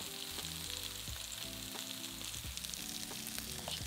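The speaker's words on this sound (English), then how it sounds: "Cook the onions, stirring occasionally for about 3 to 4 minutes until they're softened." Diced onion sizzles and fries steadily in a pan alongside salmon, a continuous close crackle with no talking.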